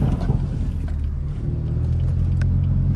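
A BMW F80 M3 is driven on the road, heard as a loud, steady low engine drone and rumble, close and continuous, with faint tire and road noise.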